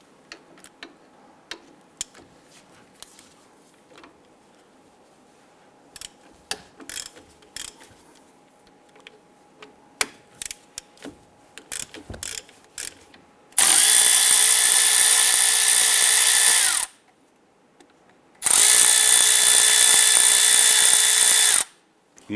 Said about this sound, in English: Using a 14mm socket, let's go ahead, loosen and remove these two caliper bolts.